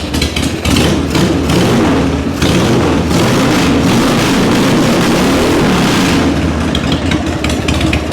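Harley motorcycle engine idling on full choke through a cheap Amazon replacement carburetor, a loud, close, steady pulsing idle that carries on without talk.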